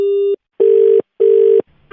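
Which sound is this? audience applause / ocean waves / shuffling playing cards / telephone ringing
telephone ringing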